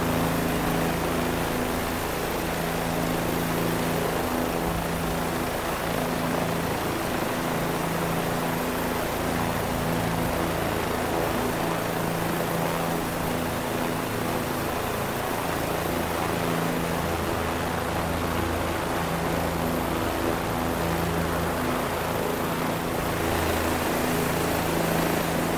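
A Bell 407 helicopter in Microsoft Flight Simulator 2020 on Xbox, flying steadily under the Coronado Bridge: a constant loud rotor and turbine drone with a steady low hum, unbroken throughout.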